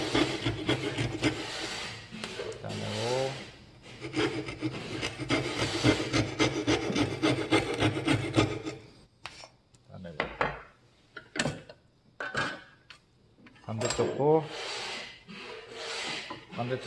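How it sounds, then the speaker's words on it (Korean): A Japanese pull saw cuts wood for a drawer joint with rapid rasping strokes, loud and close. The strokes come in bursts separated by quieter pauses, and brief sharp knocks appear later. "풀톱으로"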